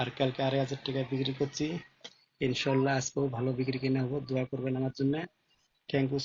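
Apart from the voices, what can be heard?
None of the usual background noises is heard.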